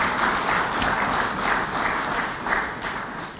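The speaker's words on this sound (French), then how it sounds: "Applaudissez encore pour Kasavubu." Sustained crowd applause honoring President Kasavubu at a tribute event, a dense steady wash of many hands clapping at even loudness with no voices on top.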